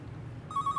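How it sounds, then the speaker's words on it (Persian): A telephone bell starts ringing partway through, with clear repeated trilling bursts over a low background hum in an indoor setting. "تلفن."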